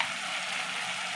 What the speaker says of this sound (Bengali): হলুদ গুঁড়ো দিয়ে সমস্ত মশলাগুলোকে ভালো করে কষিয়ে নেব যতক্ষণ না তেল ছাড়ে মশলা থেকে